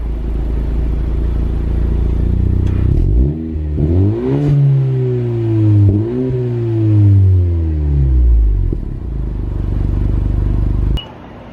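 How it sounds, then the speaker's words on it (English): An engine with modified exhaust on a used car for sale, not a V8 but deeper than a typical four-cylinder, rumbles at idle, then rises and falls through several loud revs before settling back, close by. "let's start this up and see what this exhaust is like."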